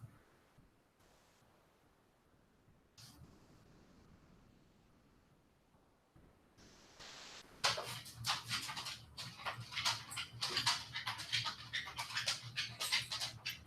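Several dogs waiting for dinner pace and pant; quiet shuffling at first, then from about 7.5 seconds a loud, busy stretch of rapid panting, claws and rustling close by.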